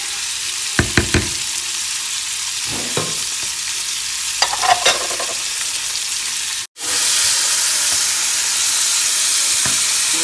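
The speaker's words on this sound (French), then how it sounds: "je mélange" Vegetables frying uncovered in a pan while being stirred, a steady sizzle with scattered scraping clicks of the spoon, then a louder, brighter hiss after a brief break.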